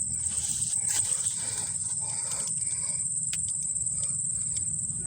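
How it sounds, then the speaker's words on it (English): An insect, identified as a grasshopper, chirps in a continuous, shrill, high-pitched trill close by outdoors at Fenner Nature Center, with soft rustling and low background noise beneath it. "Grasshopper."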